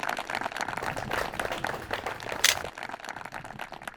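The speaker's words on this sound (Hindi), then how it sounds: "जोरदार तालियां के लिए बजा दीजिए।" Scattered applause from a crowd at a farmers' quiz forum, irregular claps blending into a noisy hall with a brief louder burst partway through.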